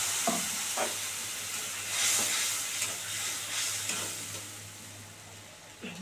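Ground spice paste hits hot oil with a bay leaf in a pan for a Bengali doi potol dish, giving a steady hiss and sizzle with occasional stirring scrapes and no voices.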